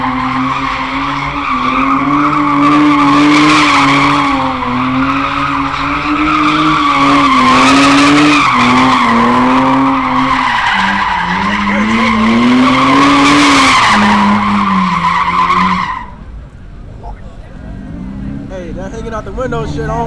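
Several cars spin and skid in circles at a Chicago street takeover, tires squealing in long wavering screeches over roaring engines, loud and close, before the noise cuts away to quieter crowd sounds near the end.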